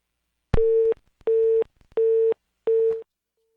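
Telephone busy signal after a dropped call during a Brazilian radio phone interview: four evenly spaced steady tones, each about 0.4 seconds long, loud and clear with no talking.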